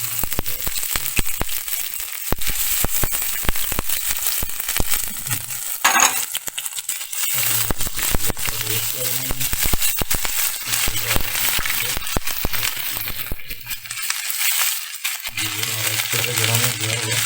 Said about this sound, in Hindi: अब हम इसके अंदर लहसुन अदरक का जो पेस्ट है वो इसके अंदर शामिल करेंगे